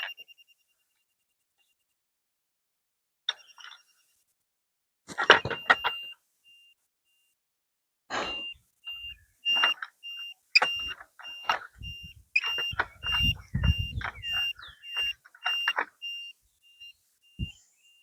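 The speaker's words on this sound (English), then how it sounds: "it beeps at you when you point it at the laser" Short electronic beeps from a laser level receiver sound intermittently, some in quick runs of several, against near silence with faint handling noises.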